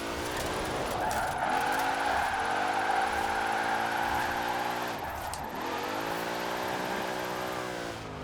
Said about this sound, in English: You can hear the whine of the supercharger a little bit as well.